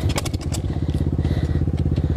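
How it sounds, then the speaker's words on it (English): A 2019 Apollo 125cc motorcycle fires into a rapid, loud, close putter of engine pulses, with clattering mechanical noise at the start. "let me kick mine on"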